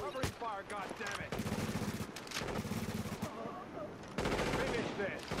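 Covering gunfire rattles in Tom Clancy's The Division, with rapid automatic bursts and sharp shots mixed under shouted in-game voices, loud and close.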